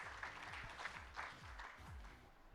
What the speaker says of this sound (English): let's welcome the very first speaker for the day, Mr. Ankur Tandon, with a huge round of applause